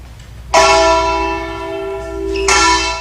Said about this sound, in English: I go, and it is done, for the bell summons me.